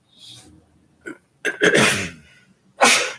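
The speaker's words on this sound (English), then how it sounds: "Bless you. Bless you. Bless you." Three sharp sneezes in a quiet commission meeting room, the middle one a loud, drawn-out burst, the last one short and forceful.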